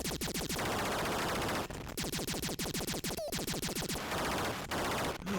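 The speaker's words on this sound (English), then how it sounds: "Look at all them shots, look." Rapid automatic gunfire in an early retro video game, long continuous bursts of clattering shots with only brief gaps, loud and steady throughout.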